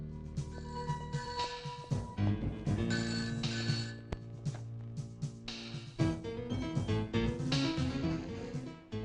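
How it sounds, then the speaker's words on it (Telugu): A telephone bell rings in repeated bursts inside a police station, loud and near, with music playing alongside the ringing. "Sir phone."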